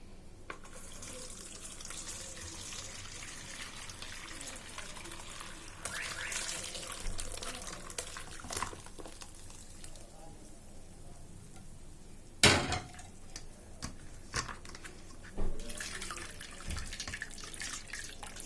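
Water running and trickling as it strains through a thin cloth to separate homemade cheese, a steady close splashing flow with a few sharper knocks and clatters of kitchen utensils.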